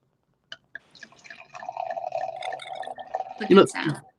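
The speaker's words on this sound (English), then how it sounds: "there are a few things in life that sound so amazing as a beverage being poured into a wine glass" Mead or cider is poured into a stemmed wine glass, with a couple of opening drips giving way to a steady trickling, filling gurgle that swells near the end, close and clear.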